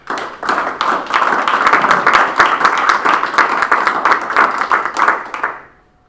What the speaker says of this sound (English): So let's give Mr. Egan a round of applause.